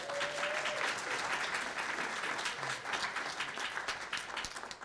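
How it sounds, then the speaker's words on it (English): Audience applause at a podcast privacy symposium for the CEO of PRX, a dense, steady crowd clapping that fills the whole stretch at moderate loudness with no talk over it. "please give a round of applause to CEO of PRX"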